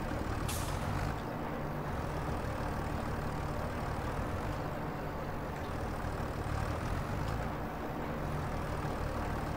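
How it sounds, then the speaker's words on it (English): Tractor engine straining under load in Farming Simulator 25, a steady loud rumbling drone with a brief hiss near the start, no talk. "the tractor is struggling"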